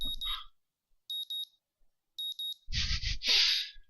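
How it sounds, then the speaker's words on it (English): An alarm clock in the visual novel game Katawa Shoujo beeps in short paired chirps with gaps between, followed by a louder, noisier burst of sound toward the end. "I don't know why I keep the early alarm on anymore."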